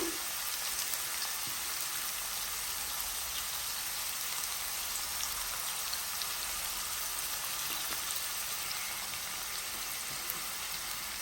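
Capsicum and onion fry in a pan for lemon rice, giving a steady, fairly quiet sizzle without a break throughout.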